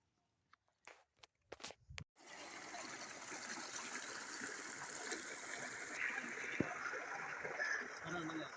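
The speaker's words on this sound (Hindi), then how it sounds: "ये ट्यूबवेल चल रहा है और ये इस नाली के थ्रू जो है वो मैंने जो आपको पानी दिखाया था खेतों में जा रहा है" Water from a running tubewell flows through a field channel toward farm crops in Multan, a continuous close trickling rush beginning after a few faint knocks.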